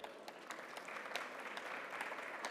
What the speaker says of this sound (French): Vous pouvez déjà l'applaudir, s'il vous plaît